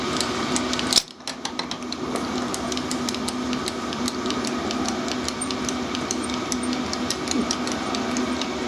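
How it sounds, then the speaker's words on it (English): A sharp carbide drill cuts into metal on a milling machine during a Volvo manifold modification, making a loud steady whirring grind with rapid repetitive ticking after a brief jolt at the start. "I'm just going to go straight in with one of these nice, really sharp carbide drills."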